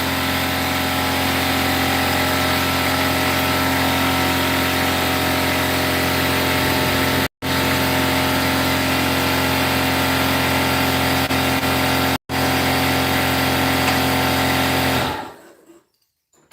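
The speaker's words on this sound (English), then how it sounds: "I'm going to drill the epoxy out of these eyes" A power drill drilling epoxy out of a lure's eye: a steady motorized whine with a constant hum runs loud and unbroken, cut by two brief pauses, then winds down at the end.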